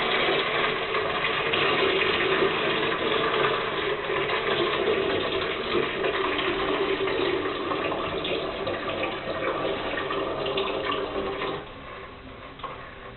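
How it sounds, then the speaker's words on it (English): Steady rushing and splashing of water draining from a plumbing filter housing into a bucket, continuous and fairly close, easing slightly near the end. "you want to wait until all the water has stopped coming out"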